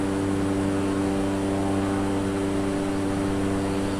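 A propeller plane engine in the Microsoft Flight Simulator 2020 game drones at a steady, continuous level throughout, a constant, even hum with no other sounds over it.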